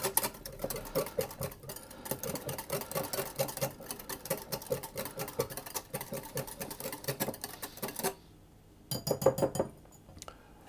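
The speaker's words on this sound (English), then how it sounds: "and I'll whisk that together" Wet batter ingredients with cooled melted butter being whisked in a bowl for a cheese and spring onion quick bread, rapid rhythmic clinking taps of the whisk against the bowl, pausing briefly near the end, no talk.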